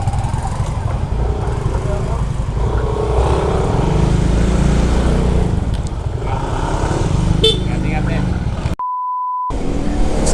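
A group of eight motorbikes riding together in Casiguran, Aurora, engines droning loud and steady with wind rush throughout, a short beep and a brief gap near the end.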